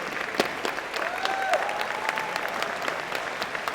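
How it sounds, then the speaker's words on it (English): Convocation audience at a college of engineering and computer science ceremony applauding an honoree, dense sustained clapping from a large crowd with a faint whistle-like tone running through it. "give Karen a big round of applause"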